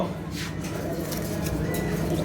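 Pigeons coo steadily at a wholesale pigeon farm, a low murmuring bed of calls with faint chatter mixed in throughout.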